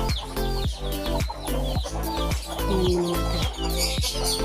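Birds at a bird farm, with chicken-like clucks and calls repeating in quick bursts close by, mixed with chirps and other calls, loud and busy, with no talking.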